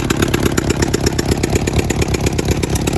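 A 1983 Honda CB1000 motorcycle engine runs after a carburetor change, a loud, close, rapid pulsing putter holding a steady, slightly uneven idle throughout with no voices.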